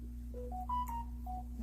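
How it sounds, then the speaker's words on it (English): A smartphone notification chime plays a short rising run of clear electronic tones, ending with a final beep, over a steady low background hum. "I don't know why my phone decided to keep going off today"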